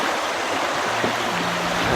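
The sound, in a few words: fast-flowing stream water, Shahdara Valley Islamabad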